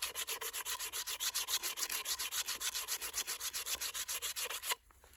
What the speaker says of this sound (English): Regular sandpaper that I find in the hardware stores falls apart pretty quick.